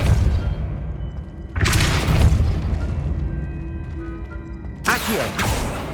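Depulso spell blasts from the video game Hogwarts Legacy: two heavy, booming whooshes of force a few seconds apart over a low rumbling game ambience, loud and close.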